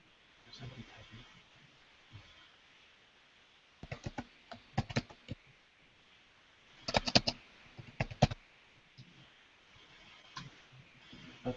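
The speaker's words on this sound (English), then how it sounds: "There's somebody typing." Scattered bursts of clicky keystrokes, typing in short runs with pauses, fairly close over a faint background hum.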